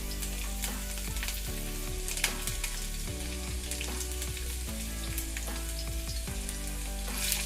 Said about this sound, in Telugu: ఇది కొంచెం వేయించుకోవాలండి. కొంచెం కలర్ చేంజ్ అయ్యే వరకు.